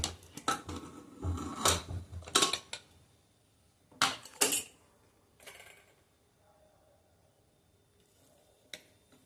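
A pressure cooker holding masoor pulao being opened after cooking, with a series of close metallic clicks, clanks and knocks of the lid, then quieter faint handling sounds.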